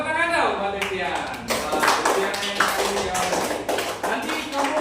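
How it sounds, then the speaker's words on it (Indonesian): A short burst of scattered clapping from a small group, mixed with a voice speaking over it. "Tepuk tangan dong buat Devian."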